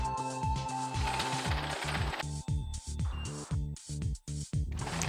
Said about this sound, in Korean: 원하는 매수를 숫자 키로 누르면 지폐를 지정한 숫자만큼 개수합니다